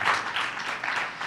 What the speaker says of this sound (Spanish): Un aplauso para el Señor, al Rey de Reyes, el Señor de Señores.